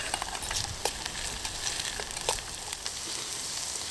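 Food sizzles steadily in a hot hard-anodized Trangia 27 camping pot used as a wok, with scattered scrapes and clinks of stirring, close by and with no voices.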